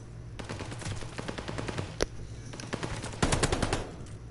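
Rapid bursts of automatic gunfire crackle through a competitive video game match, steady chattering volleys followed by a sharper, louder flurry near the end, with no talk over them.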